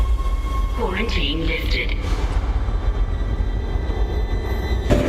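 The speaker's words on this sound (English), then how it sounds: "Tram arriving at flight deck station." A Dead Space tram rumbles into a station with a steady low mechanical drone, a voice speaking over it early on and a sharp clank near the end.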